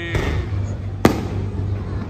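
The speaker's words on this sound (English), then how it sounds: "It takes such a long time for those fireworks to go up." Fireworks go off outdoors in the Philippines, with a sharp distant crack and thud bursting over a steady low rumble and background crowd noise.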